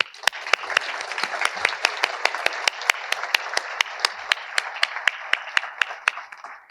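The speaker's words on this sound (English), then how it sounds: "let's take a moment to give them all a round of applause" Sustained audience applause at an optometry college white coat ceremony, a dense wash of many hands with a few sharper individual claps standing out, steady and fairly loud throughout with no talking.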